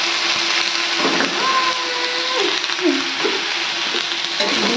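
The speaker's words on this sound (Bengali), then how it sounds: "নেড়ে নিলাম পেঁয়াজটা অনেকটা লাল লাল হয়ে গেছিলো বলে তো চলো কিন্তু ভাজা হয়ে গেছে" Onion frying in a pan for a taro and prawn curry, a loud steady sizzle with a spatula scraping and stirring through it and some faint tonal squeaks from the pan.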